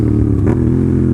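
A motorcycle engine blips and rev-matches during a downshift before a right-hand turn, a loud close rumble that swells briefly and then settles back to a steady drone.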